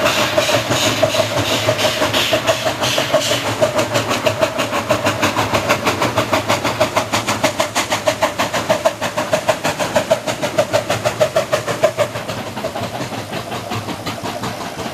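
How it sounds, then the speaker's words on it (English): Freight train on a steel works hill, hauled by two JS steam locomotives, one at the head and one pushing at the tail, giving a loud, continuous rhythmic chuffing and rumble close by without pause. "There's a train coming up with two JSs, one on the head end, one on the tail end, pushing."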